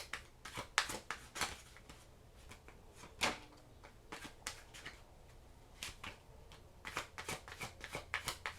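A deck of tarot cards is shuffled and riffled by hand, giving quiet, close, irregular bursts of flicking and snapping card edges with short pauses between them.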